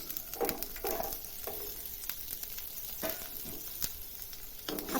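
Beans and carrots sizzling in a hot pan for a spicy veg pasta, a continuous fry hiss broken by irregular stirring scrapes and soft clatters, no voices.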